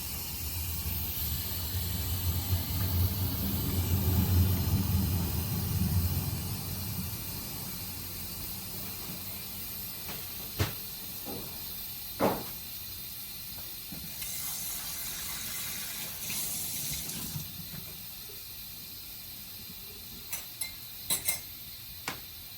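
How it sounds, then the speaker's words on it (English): An Instant Pot pressure cooker vents steam in a kitchen: a steady hiss with a low rumble fades over the first several seconds. Scattered small clicks and taps follow, and a fainter hiss returns midway. "still got some steam coming out"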